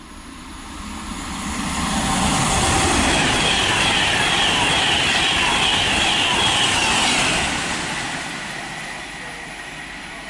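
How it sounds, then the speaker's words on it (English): A Virgin passenger train bound from London Euston to Manchester Piccadilly roars through a West Coast Main Line station at Tamworth, a loud steady rush that swells over the first two seconds, holds, then fades as it passes. "passing through now, we've got a Virgin Train service to Manchester Piccadilly from London Euston."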